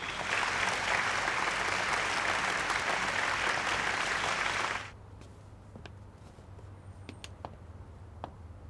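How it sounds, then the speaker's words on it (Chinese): A loud, dense burst of applause from the audience at an evening jewelry showcase gala, a steady crowd clapping for about five seconds that then stops abruptly, leaving a quiet room with a low hum. "掌声有请"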